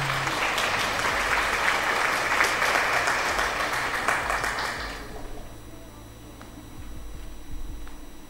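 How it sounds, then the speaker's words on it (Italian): Applause in a PC Building Simulator session, a burst of dense clapping for about five seconds that then cuts off, leaving quiet background tones. "Un bel applauso a quelli che rimangono."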